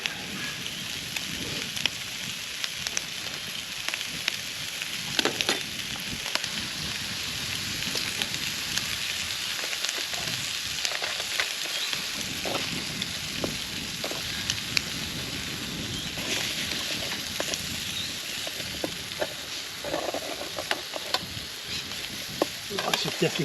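Food sizzles steadily while frying in a packed pan, with repeated scraping and stirring strokes over the constant hiss, close and fairly loud, no one talking.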